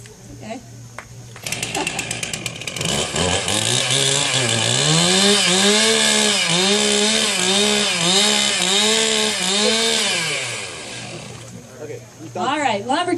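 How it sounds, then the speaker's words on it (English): A chainsaw warming up before wood carving roars loudly and steadily, its engine revving up and down in repeated rhythmic surges for about ten seconds before cutting back to idle. "All right, just warm up the chainsaw."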